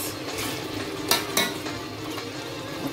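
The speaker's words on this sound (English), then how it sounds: "Give it a good stir" A spoon stirs garden egg (eggplant) stew in a pot, a soft continuous scraping and bubbling with two sharp clinks against the side partway through.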